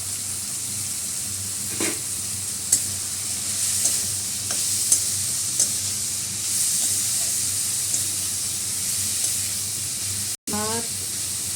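Ginger, turmeric powder and chili powder fry in a pan with a steady sizzle and hiss, stirred now and then with a few light scrapes and clinks.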